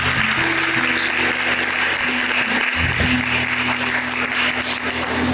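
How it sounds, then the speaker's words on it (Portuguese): Church congregation applauding together at a Sunday morning service, a steady, dense wash of clapping that fills the room evenly from start to finish, with a low hum running underneath. "Vamos aplaudir a palavra do Senhor?"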